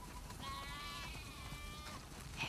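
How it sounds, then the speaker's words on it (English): A single sheep bleats faintly in a drawn-out, wavering cry, heard alone over a low background hum, in the video game The Last of Us Part II. "We definitely have way too many sheep."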